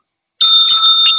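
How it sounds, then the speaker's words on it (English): A bell or doorbell-like chime rings out abruptly after a short silence, a loud sustained tone with bright overtones that holds steady for about a second. "Oh, you're doing a bell?"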